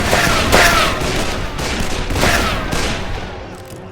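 Video game gunfire in Call of Juarez: Bound in Blood, a rapid volley of loud close shots in quick bursts over a few seconds, fading out at the end.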